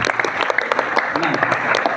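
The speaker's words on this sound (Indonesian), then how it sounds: "Tepuk tangan untuk pertanyaannya" An audience at an Indonesian election commission (KPU) event applauds a question from the floor. Dense, close clapping runs throughout, mixed with voices talking over it.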